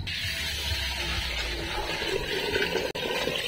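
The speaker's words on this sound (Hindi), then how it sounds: "तो इसी पे रखेंगे अब देचकी और इसमें डालेंगे पानी" Steady rushing water runs continuously into a cooking pot on a fire, a broad hiss with a low rumble underneath, close and unbroken apart from one tiny clunk.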